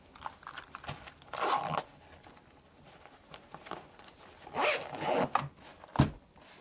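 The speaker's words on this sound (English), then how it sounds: "Zip it up." A zipper on a soft deck storage case is pulled closed in several short, scratchy strokes separated by pauses, close and fairly quiet, with a final sharp zip at the end.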